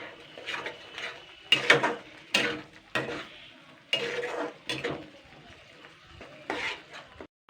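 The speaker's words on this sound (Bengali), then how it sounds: "এইবার আমি এই মশলাটাকে ভালো করে কষিয়ে নেব।" Spice masala with tomato, raw onion and turmeric being stirred and fried in a pan, heard as a series of short, close scraping and clattering strokes of a spatula with quiet gaps between them.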